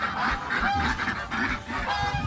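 Several ducks quack and honk continuously in overlapping calls, close by and fairly loud, with no talking.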